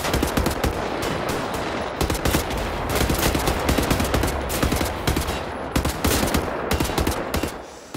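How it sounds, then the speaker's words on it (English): Sustained gunfire in the video game Wolfenstein: The New Order, a dense, rapid stream of sharp shots cracking steadily for several seconds with slight pauses between bursts, loud and unbroken. "Like long range shooting right here."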